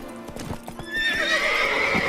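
A wild horse in The Witcher 3 clops its hooves in a quick run of close steps, then lets out a loud, drawn-out whinny that rises and wavers to the end.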